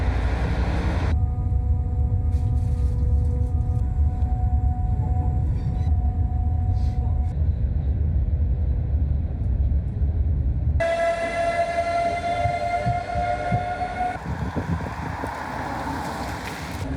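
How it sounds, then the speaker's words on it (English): Passenger train running toward Celje in Slovenia, a steady loud rumble and rail roar throughout with tonal whine, then a higher squealing tone later in the ride. "We were so close to missing the flipping train."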